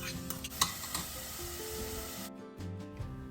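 Chopped onion, cut into small cubes, starts cooking in a pan for pasta Bolognese: a steady sizzle with scraping stir strokes and one sharp clink, which drops out abruptly near the end.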